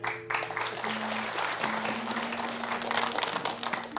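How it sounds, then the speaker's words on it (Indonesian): An audience claps steadily throughout a Javanese variety-stage show, the dense applause running under sustained tonal music. "tepuk tangan"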